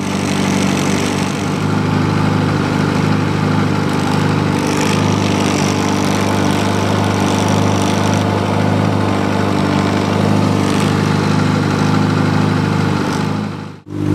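A Kawasaki Ninja motorcycle engine idles steadily after warming up, with a constant low rumble, loud and close, with no one speaking, then cuts off abruptly at the end.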